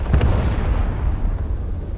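Artillery fire in the strategy game Broken Arrow during a 5v5 match, a continuous dense low rumble of distant booms and blasts rolling on without pause.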